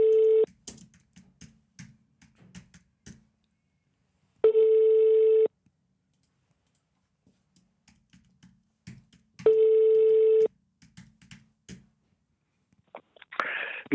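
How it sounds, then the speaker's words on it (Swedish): Telephone ringback tone heard while placing a call: two long steady beeps about five seconds apart, separated by quiet stretches with faint clicks and rustling, a brief noisy burst at the end. "så jag ringer på"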